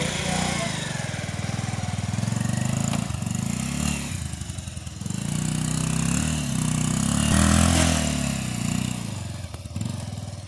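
A motorcycle engine runs steadily as the bike turns and rides around an outing spot in Kathmandu, a continuous close, loud drone with slight swells in revs throughout.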